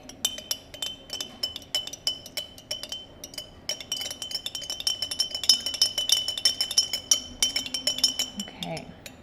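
Spoon stirring green food coloring into water in a glass jar, giving rapid clinking taps against the glass over a faint background hum, close up, with no one speaking.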